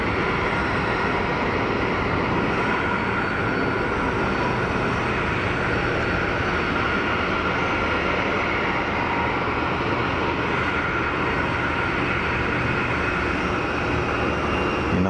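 United airliner taxiing at Geneva Airport, a steady, unbroken engine roar with broad hiss, holding even loudness throughout and no voices over it.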